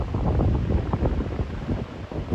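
Strong wind roars and buffets the microphone continuously in a snowstorm, a low rumbling rush that swells and eases in gusts without any break.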